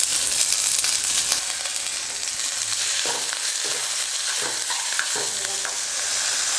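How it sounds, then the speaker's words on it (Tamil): Drumstick leaves, coconut and tamarind sauté in a hot pan with a constant crackling sizzle, and a spoon scrapes and stirs through it at an irregular pace. "இப்போ நம்ம வேக வச்சு எடுத்து முருங்கைக்கீரையை சேர்த்துக்கிறேன்."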